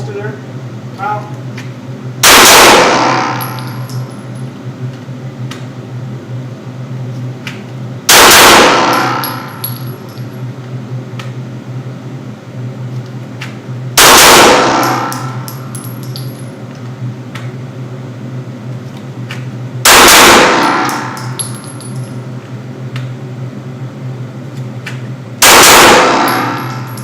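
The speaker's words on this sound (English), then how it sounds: "we're just gonna come out of the holster, fire 2 rounds, come in, reluctantly reholster there" Glock 19 pistol fired with live rounds drawn from an appendix carry holster, sharp loud reports in five evenly spaced bursts, each ringing out and decaying over a constant background hum.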